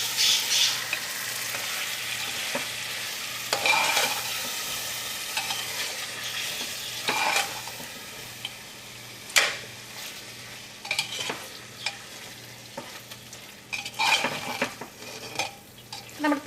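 Chicken and yogurt being mixed in a pressure cooker for biryani: a low sizzle beneath repeated scraping, clinking stir strokes of a spoon against the pot, close and moderately quiet, with no one talking.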